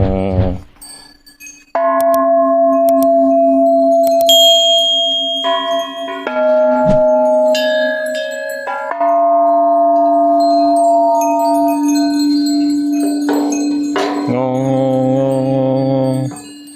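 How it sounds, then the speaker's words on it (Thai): Bright, ringing temple bell tones at Wat Phra That Phu Sang in Phayao, Thailand, sustain and overlap continuously, with several strikes layering into a loud, resonant metallic drone. "เคาะระฆังเสียงจะได้โด่งดัง เหมือนดังระฆังฮะ"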